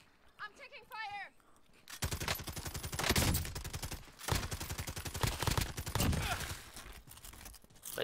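Dense rapid gunfire from a multiplayer shooter video game, loud bursts of automatic fire running almost continuously under players talking over voice chat.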